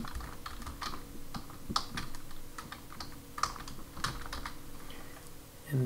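Typing a domain name on a computer keyboard, a steady run of close, crisp key clicks with irregular rhythm and a few louder strikes, with no talking.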